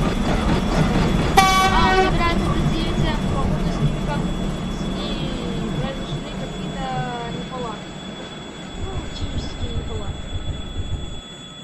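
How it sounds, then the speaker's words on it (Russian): Train arriving at a crossing in a Minecraft railway game, with a loud rumbling roll, squealing wheels, horn-like tones and a steady high whine that slowly fade, while people talk over it. "Следующий поезд приедет через 10 минут."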